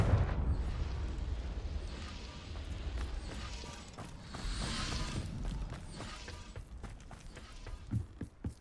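Confringo fire-explosion spell cast in a wizard video game: a rumbling, crackling blast with sustained roar and scattered sharp impacts, moderately loud and close, with a swell midway.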